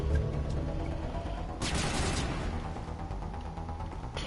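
Gunfire breaks out in the video game Mass Effect, a dense burst of rapid shots partway through over a steady low background hum, with no voices.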